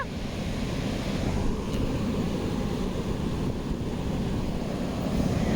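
Waves roll and break on a beach with dirty water, a loud continuous surf roar buffeted by wind noise on the microphone, with no voices.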